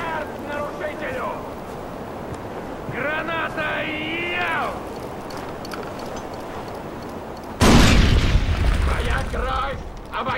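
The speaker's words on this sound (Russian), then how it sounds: "Граната!" A grenade explodes in the Far Cry 4 Valley of the Yetis expansion, a sudden loud boom with a sustained rumbling roar after earlier talk and faint game ambience.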